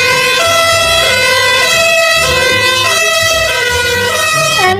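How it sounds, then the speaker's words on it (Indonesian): A toy fire engine's electronic siren wails loud and close in a steady, repeating rising and falling tone, heard alone with no voices. "Ini mobil pemadam kebakaran."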